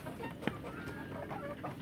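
Free-range village chickens cluck softly and intermittently nearby, with scattered short calls over a steady outdoor background.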